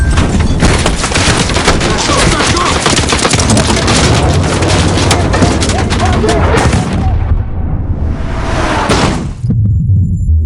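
Rapid gunfire and heavy explosions from the video game Call of Duty: Modern Warfare crackle and boom continuously, loud and chaotic, with a short lull before another burst.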